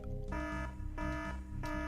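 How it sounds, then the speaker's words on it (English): An alarm sounds in the heist video game Trilby: The Art of Theft, a steady electronic tone that stops and restarts in regular pulses, loud and alone. "how did you set an alarm off?"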